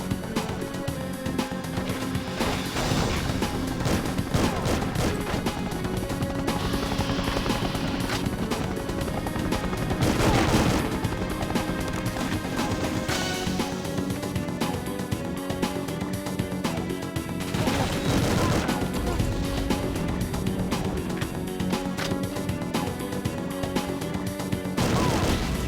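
Barrel explosions and gunfire from the N64 shooter The World is Not Enough, a dense, continuous din of blasts, crashes and shots layered over loud game music, with several sharper bursts standing out.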